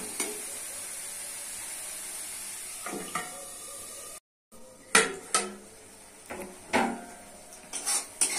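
A spoon scrapes and clanks against a pan while tomato masala is stirred and fried, with quiet background hiss, a brief dropout, then several distinct metallic knocks and scrapes, close up.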